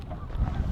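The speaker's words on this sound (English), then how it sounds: "We got a bunch of geese taking off right now." A flock of geese takes off from a lake in sub-zero winter, giving brief, close, overlapping honks over low rumbling background noise.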